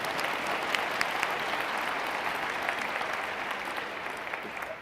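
A large audience applauds steadily at a public discussion, a dense, even wash of many hands clapping that holds at a constant level throughout, somewhat distant and soft.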